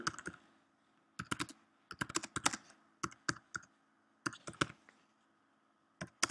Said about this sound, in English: Now we can delete these words and type something new.